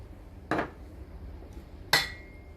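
Ingredients go into a mixing bowl for cheesecake: two separate bright clinks of dishes, close and fairly loud, with a faint tap between them and quiet background otherwise.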